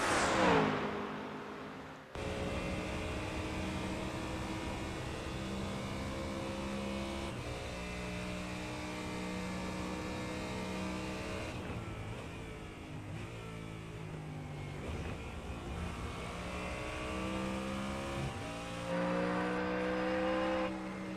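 A Mustang GT3 race car engine in the iRacing game at Road America roars and revs hard, pitch climbing and dropping through gear shifts, loud and continuous with no talking.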